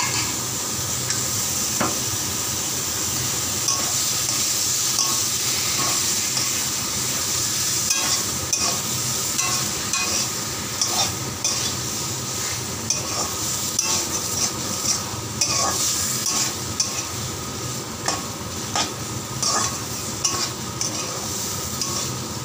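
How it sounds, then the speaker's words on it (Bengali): Meat stir-fried with spice paste in a pot gives a steady loud sizzle, broken by frequent scraping strokes of a spoon against the pot, close by and without speech. "মশলা কষানো শেষ, দিয়ে দিতেছি মাংস।"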